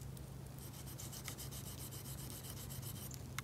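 A Gerber Principle knife is stroked across a sharpening stone to remove the burr, a rapid, even series of quiet rasping rubs over a low steady hum.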